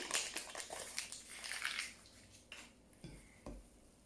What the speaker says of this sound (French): Et on mélange tout doucement.